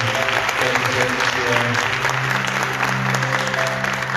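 A church congregation applauding during a Portuguese-language sermon, a sustained wash of clapping mixed with crowd voices and a held musical tone underneath.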